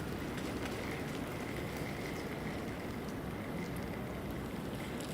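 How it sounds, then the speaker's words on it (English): Steady rain falls on a downtown Toronto street, a dense, continuous patter and hiss that stays even throughout with no voices. "the rain is picking up."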